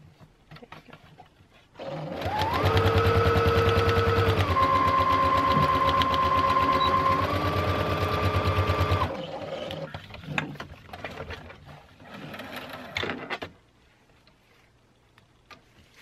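A sewing machine backstitches ribbon trim on a tutu, giving a steady, close mechanical whir that runs unbroken for about seven seconds before stopping, followed by quieter handling sounds.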